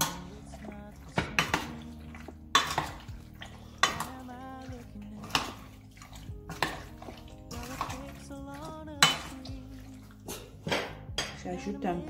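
Seasoned chicken gizzards are stirred in a bowl with a utensil, giving repeated clinks and scrapes against the dish in an irregular rhythm, close and moderately loud, with some wet mixing sounds in between.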